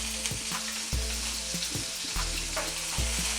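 Chopped onion and tomato frying in a couple of tablespoons of oil in a pan, a soft steady sizzle broken by the light scrape and knock of stirring, close and quiet.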